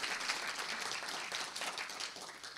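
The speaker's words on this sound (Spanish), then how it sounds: "voy a pedir un fuerte aplauso, por favor" Loud, sustained applause from an audience at a Peruvian university law event, honoring a congressman, with dense clapping that continues steadily for a couple of seconds before easing slightly.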